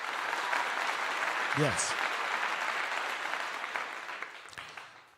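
Applause during a livestream forms a continuous, moderately loud clapping texture that fades toward the end, with a brief spoken word from a voice partway through.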